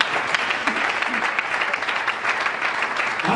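A church congregation claps together in sustained, dense applause that carries steadily through the whole moment, with a faint murmur of voices mixed in.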